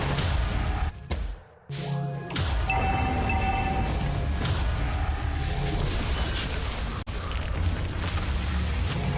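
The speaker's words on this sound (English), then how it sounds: "Team turret has been destroyed." A turret is destroyed in Mobile Legends: Bang Bang, a deep booming explosion with crashing debris, then a brief drop and a sustained rumbling blast with ringing tones, loud and close.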